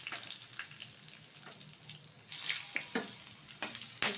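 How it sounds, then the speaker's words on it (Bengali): Bay leaves, dried red chillies and whole garam masala spices sizzle in hot oil left from frying potatoes for a mutton dish, a steady bright crackle with occasional sharper pops and stirring. "এখন এই তেলে দিয়ে দেবো দুটো তেজপাতা, দুটো শুকনো লঙ্কা, কিছুটা গোটা গরম মশলা"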